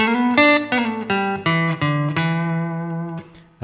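An electric guitar plays a lick from a song, a run of about seven clean, sustained notes picked in steady succession, with the last note held, close and bright.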